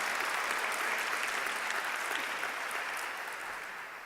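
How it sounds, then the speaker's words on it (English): Sustained audience applause at a keynote address for the Volcker Alliance, a dense, steady wash of many hands clapping that stays loud throughout and eases slightly toward the end. "Let's give him a round of applause."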